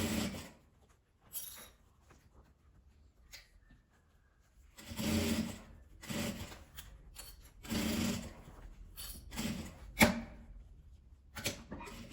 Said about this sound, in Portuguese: Vou passar uma costura em volta dele todo para depois pregar o viés.